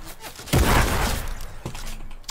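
A combat shotgun fired in Fortnite: one heavy, booming blast is followed about a second later by a second, sharper report, both loud and close over a low game background.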